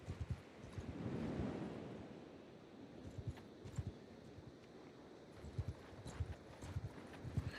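A horse's hooves clop in irregular bursts in the Old Realms strategy game, with soft muffled thuds over a low windy rumble and quiet stretches between.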